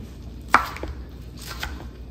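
A knife chops white jelly mushroom (snow fungus) into small pieces on a cutting board: one sharp close knock, then a few softer taps, over a quiet kitchen background.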